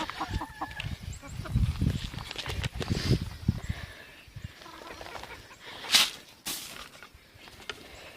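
Chickens out near their coop in deep snow, clucking and calling in scattered bursts at moderate distance, with a sharper squawk-like burst near the end, over faint outdoor background.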